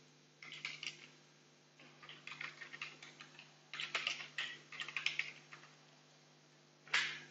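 A new administrator password being typed on a computer keyboard during a Windows Server Core setup, bursts of quick, light key clicks in uneven runs with pauses, close and fairly quiet, no speech.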